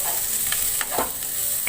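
Spiced potatoes with salt are stirred in a frying pan, with a steady sizzle under scattered scraping strokes of the spoon, close and alone.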